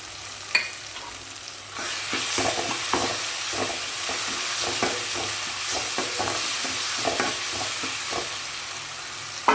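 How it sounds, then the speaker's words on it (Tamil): Ginger garlic paste sautéing with tomatoes in a pan, a steady sizzle under repeated scraping and stirring strokes of a spoon, close and continuous. "இப்போ இஞ்சி பூண்டு பேஸ்ட் நல்லா வதங்கிடுச்சு"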